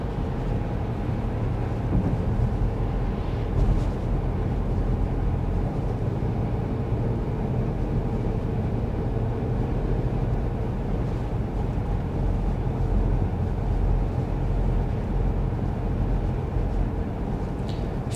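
Steady road and wind noise inside a 2024 Audi Q5 cruising at 55 mph, a continuous low broadband hum with no talking, fairly loud and even throughout.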